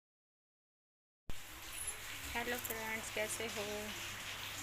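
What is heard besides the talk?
continuous heavy rain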